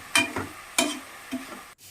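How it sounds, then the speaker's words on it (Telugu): Chopped onions sautéing in oil with salt and turmeric, stirred in a pan: a few short scraping stir strokes over a soft, steady sizzle, close and alone, ending abruptly. "ఆయిల్ వేసుకుని ఈ కట్ చేసుకున్న ఉల్లిపాయలను వేసి మగ్గిస్తూ"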